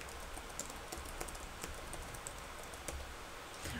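Fast, uneven typing on a computer keyboard during an online multiplayer gaming session, with sharp close key clicks scattered over a low hum and no voices.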